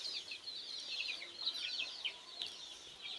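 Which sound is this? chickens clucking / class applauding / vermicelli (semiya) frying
chickens clucking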